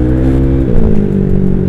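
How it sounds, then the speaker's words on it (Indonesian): A bored-up Honda Vario scooter engine fitted with a dB killer revs close and loud, a steady droning hum whose pitch dips slightly partway through before holding even, with no talk. "Nah sekarang ini pakai DB killer, suaranya sama kayak waktu mesin standar nggak pakai DB killer gitu."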